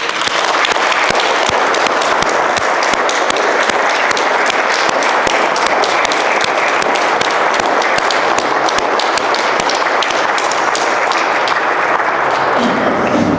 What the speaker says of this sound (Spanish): Quisiera que le tributemos un aplauso hasta el cielo.